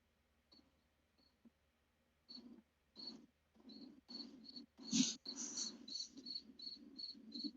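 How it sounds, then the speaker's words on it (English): Crickets chirp in the ambience of the video game King's Garden, with soft, sparse chirps at first that turn into a steady, brisk pulsing trill. It stays quiet and close, with no talking. "The crickets are a nice touch now, huh? It's so immersive."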